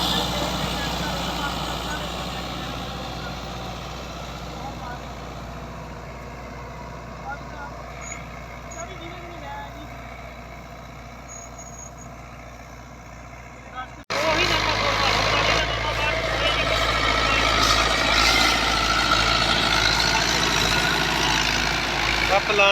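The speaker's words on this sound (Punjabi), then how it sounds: "ਨਰਮਾ ਪਲਾਂਟਰ ਹੋ ਰਿਹਾ ਜੀ। ਆ ਦੇਖ ਲਓ ਪਲਾਂਟਰ, ਟਰੈਕਟਰ ਸਲਿੱਪ ਵੀ ਚੰਗੀ ਕੱਢਣ ਲਿਆ। 640 ਟਰੈਕਟਰ ਆ।" A Fiat 640 tractor pulls a cotton planter across a field, its engine a steady low drone that grows louder and rougher partway through, with a person talking over it.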